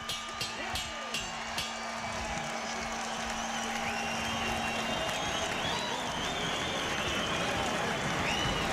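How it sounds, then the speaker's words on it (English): A boxing arena crowd, on its feet during the final seconds of the Gomez vs Feliciano fight, roars and applauds in a steady wash of noise. A few sharp claps or thumps come early, and an announcer's voice carries over the noise. "This crowd is on their feet."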